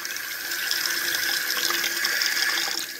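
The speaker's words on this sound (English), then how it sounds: "Turn the water on." Water gushes steadily from a kitchen tap over meat being washed, a continuous close hiss and splash without pause or speech.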